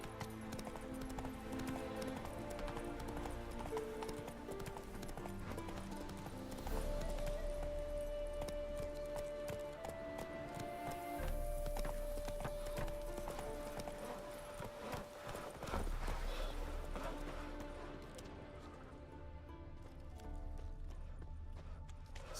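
Hoofbeats of Roach the horse in The Witcher 3, an ongoing clip-clop rhythm under game music and ambient sound, with a few louder thuds.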